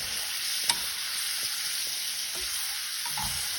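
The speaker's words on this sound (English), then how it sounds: "And we want to saute the shrimp until they're nice and pink." Shrimp sauté in a hot pan with parsley, giving a steady close sizzle throughout with a few soft clicks and scrapes of stirring.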